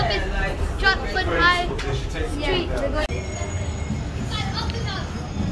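A driverless London light-rail train heading to Woolwich Arsenal via City Airport rumbles along with a steady low roar and some high squealing tones, while people talk nearby over the noise.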